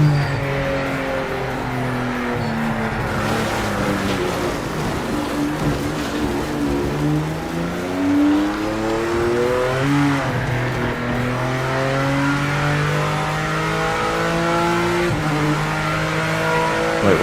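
Race car engine in Project Motor Racing, loud and continuous, its pitch climbing through gears then dropping sharply on repeated downshifts into corners, with a few tire squeals.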